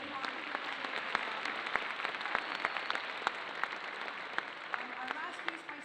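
An audience applauding at a school spring concert, a dense steady clatter of many hands clapping close by, holding at an even level throughout.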